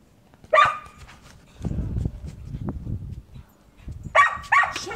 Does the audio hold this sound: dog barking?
yes